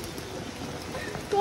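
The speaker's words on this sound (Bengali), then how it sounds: "কিন্তু বিশাল বৃষ্টি হচ্ছে।" Heavy rain pours steadily during an outdoor photo shoot at Kumortuli around Durga Puja, a dense, even hiss of drops with a brief louder gust-like swell near the end.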